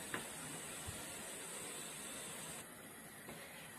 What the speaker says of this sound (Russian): Все, водичка закипела.